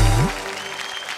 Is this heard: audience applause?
yes